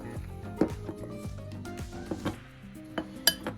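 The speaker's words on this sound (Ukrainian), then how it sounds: "Перемішуємо." A spoon stirs a simple egg-free batter for meat and fish in a bowl, giving a run of scattered clinks and scrapes against the bowl at close range, with a few sharper knocks near the end.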